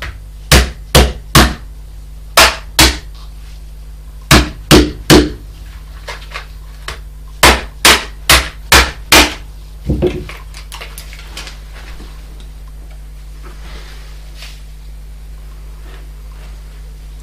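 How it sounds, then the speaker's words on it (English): Hammer blows smashing open laptop battery packs to salvage lithium-ion 18650 cells, sharp loud impacts in uneven bursts of two to four strikes, then a few fainter knocks and scraping. "I suppose I'll try and smash these open with a hammer."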